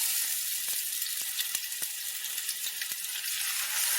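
Lamb burger patties frying in a hot pan, a steady close hiss of sizzling fat with scattered small pops and crackles running throughout, no voices.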